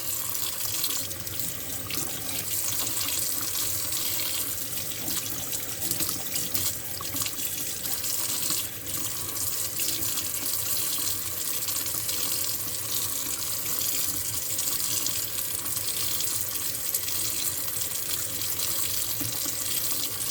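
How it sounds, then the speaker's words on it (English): A kitchen sink tap runs continuously while pork tenderloin is prepared, a steady full hiss of water splashing into the basin, close and even throughout with no talk. "Turn the water off while we're doing that"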